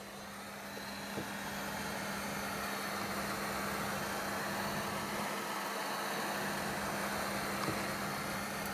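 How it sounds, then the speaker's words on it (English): A heat gun warming a Bosch EDC16 engine control unit to soften its sealer: a steady, close broadband blowing hiss with a low hum under it, unchanging from start to finish. "you want to heat the ECU a little with a heat gun"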